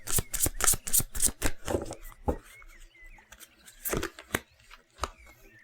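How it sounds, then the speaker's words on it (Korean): Romance angel tarot cards are shuffled with rapid, close papery riffles and taps, then a few separate slaps and flicks as cards are drawn. "로맨스 엔젤 카드 뭐라고 하는지 카드를 한번 뽑아보도록 하겠습니다"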